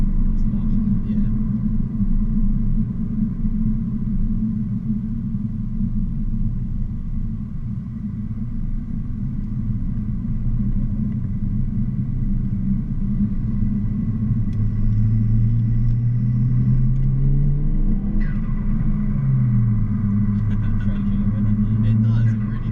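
Renault Clio 1.2 turbo engine running while driving, a steady low rumble and drone inside the cabin with rising and falling pitch sweeps toward the end, heard under occasional voices.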